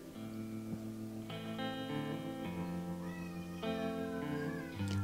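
A rescue-shelter cat meows up close in several drawn-out, tonal cries, each rising and falling with a slightly wavering pitch, one after another with no talk over them.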